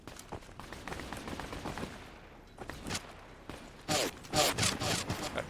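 Shotgun blasts and other gunfire in a free video game, several sharp bursts crowding the last second and a half, with quieter shots and movement noises earlier on.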